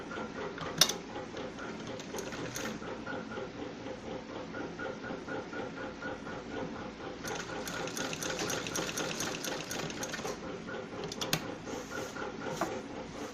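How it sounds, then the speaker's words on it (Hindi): A sewing machine running steadily as it stitches a folded-in fabric edge on a kurti, with a close, continuous mechanical whir and light clicking needle rhythm that swells slightly in the middle. "अंदर की तरफ ऐसे फोल्ड कर देंगे और इसके ऊपर एक सिलाई लगा देंगे"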